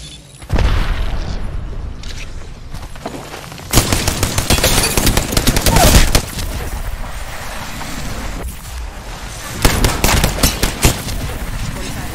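A grenade blast and bursts of gunfire in a battle-royale shooter game, with a loud crashing boom followed by dense, rattling shots that come in clustered volleys and hold the mix loud throughout, with no voice over them.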